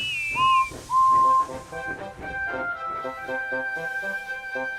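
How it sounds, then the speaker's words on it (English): A bright whistle for a steam engine in a Thomas story, a few short and long high tones at the start followed by a wavering pitched melody, close and clear, with no talk. ""Hello, Emily," whistled Whiff cheerfully"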